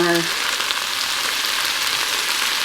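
Pulled pork with a vinegar barbecue sauce heating in a pan, a loud, dense, continuous sizzle heard up close, with a brief tonal hum at the very start before the frying noise takes over.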